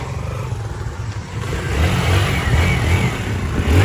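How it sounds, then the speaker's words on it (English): Steady engine rumble and revving fill a small motorbike repair shop in the Philippines, a continuous loud mid-pitched drone with some clatter and no talking. "This is the motorbike shop."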